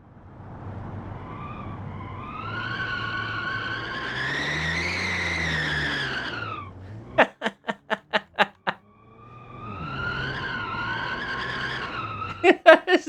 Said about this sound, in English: Best thing is to see how long you can keep the tires squealing